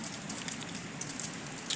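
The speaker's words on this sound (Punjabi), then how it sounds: "ਮੀਂਹ ਦੇਖੋ ਕਿੰਨਾ ਆਈ ਜਾਂਦਾ ਇੰਨੀ ਕਿ ਜ਼ਿਆਦਾ ਬਾਰਿਸ਼ ਹੋਈ ਜਾਂਦੀ ਹੈ" Heavy rain pours into an open courtyard, a dense, steady hiss dotted with sharp, crackling drop impacts, close and continuous throughout with no voices.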